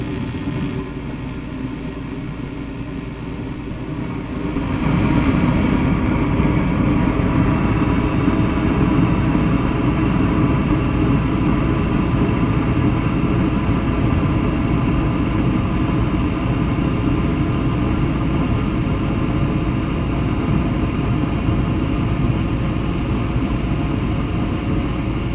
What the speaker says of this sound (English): the thermostat calls for the fan and it starts